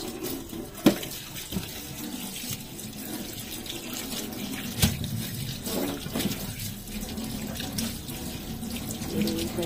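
Tap water running steadily into a sink while bitter gourd is rinsed, a soft continuous splash with a few knocks and clatters over it.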